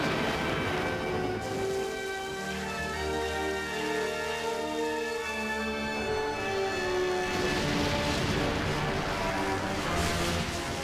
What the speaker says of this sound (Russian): во времена страшных ливней и природных катастроф